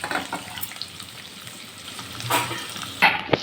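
Onions and green chillies fry in a pan for drumstick-leaf dal, a steady soft sizzle with light crackles and a couple of sharper spatters or stirring clinks near the end; no talking.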